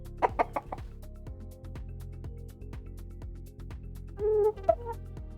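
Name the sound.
Minecraft chicken picky sound variant, from a video game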